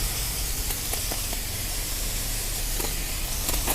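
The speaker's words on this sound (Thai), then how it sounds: "เราก็เอามาทำการฉีดน้ำล้าง ล้างเลยนะครับ" A water spray washes an air conditioner filter, making a loud, steady, close hiss that runs for the whole stretch with no talking.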